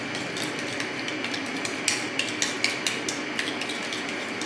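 A spoon repeatedly clinks and scrapes against a metal pot while biryani ingredients are mixed and beaten, in an irregular run of close, sharp taps over a continuous stirring rustle.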